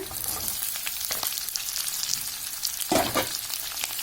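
Green tomatoes frying in a pan for chutney, an even hissing sizzle with occasional stirring scrapes and one louder burst of spatter near the end, close and steady, with no speech.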